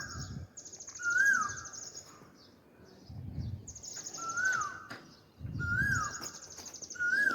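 Asian koel calling outdoors near a wheat field being harvested, rising whistled notes repeating several times at moderate distance, with faint chirps and rustling background noise between calls.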